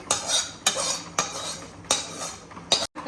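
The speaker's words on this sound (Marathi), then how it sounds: "हे वरण असं टाकायचं सगळं मिक्स करायचं" A spoon stirs dal into a pot of chicken curry, with several distinct metallic scrapes and clinks against the pot at an uneven rhythm, close and fairly quiet.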